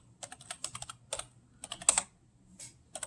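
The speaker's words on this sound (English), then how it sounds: "you have a search function, and in here you type down" Quick bursts of clicky keystrokes on a computer keyboard as a search query is typed, close and clear, in short irregular clusters with brief pauses between them.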